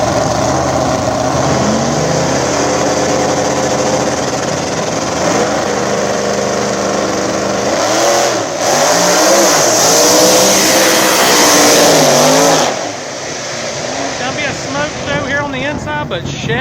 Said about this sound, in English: Another Nitrous SN95 Mustang coming on the inside, taking on Austin Shepherd.